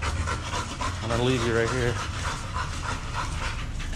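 A pitbull and a Shiba Inu pant quickly and rhythmically close by on a walk, the breathing partly under a voice.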